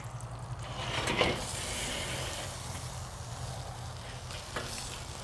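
Bacon-wrapped deer sausages sizzle on a Weber kettle grill, a steady close crackle with a brief louder hiss flaring midway and a low hum underneath.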